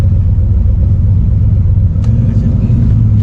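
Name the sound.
War Admiral street car engine revving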